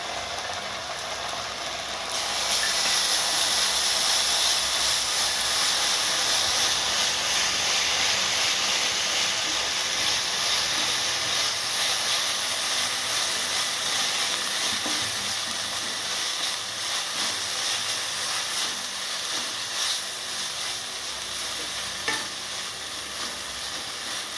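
Ground masala paste sizzling on fried onion in a pan while cooking whole masoor lentils, a loud steady frying hiss with occasional stirring scrapes throughout, no talking.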